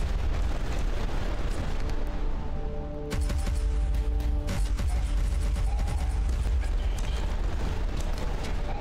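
Cannon fire in a strategy video game, with repeated booming blasts and sharp bursts over a dense, continuous rumble of battle noise, loud and close with no talk.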